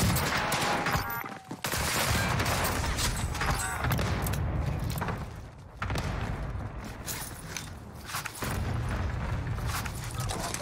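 Dense, chaotic gunfire in a Call of Duty Warzone match on Rebirth Island: sustained loud volleys mixed with heavier booms, with brief lulls between bursts.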